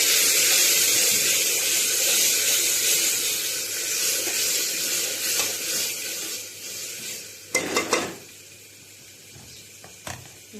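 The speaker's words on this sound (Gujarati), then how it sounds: "આપણી દાળ બફાઈ છે અને આપણે એને વઘારી નાખશું." Spices sizzle as boiled dal is tempered for sambar, a strong steady hiss that gradually fades, followed by a few sharp clatters of utensils near the end.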